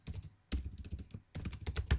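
Quick clattering keystrokes on a computer keyboard while writing code, coming in three close bursts of crisp taps with short pauses between them, near and fairly quiet.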